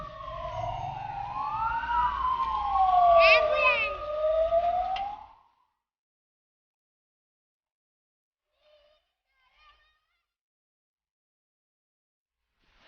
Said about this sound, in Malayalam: ആംബുലൻസ് വരുന്നുണ്ടോ?